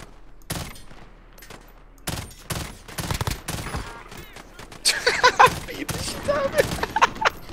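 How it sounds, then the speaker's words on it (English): Gunfire in Call of Duty: Warzone, with sharp bursts and rapid fusillades of shots cracking out close and loud in clusters, building denser toward the end. "Oh, someone's shooting at me."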